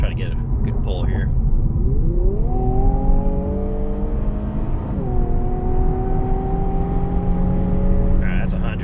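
A 2020 Infiniti Q60 with about 400 horsepower pulling hard from inside the cabin, its engine note climbing steadily through one gear, dipping at a shift and rising again in a loud, sustained drone.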